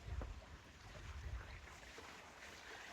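Flowing river beside a forest hiking trail on Mont Kaiikop, a soft, continuous rushing wash of water, faint and steady, with a few low rumbling bumps early on and no talking.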